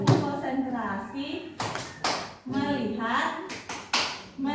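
A classroom of children chant in unison and break off for a few sharp, loud rhythmic claps of a concentration clap between the voices.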